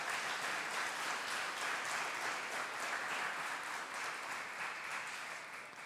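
Congregation applauding at a church prayer service, a steady wash of many hands clapping at moderate distance, fairly even and sustained before easing slightly at the end.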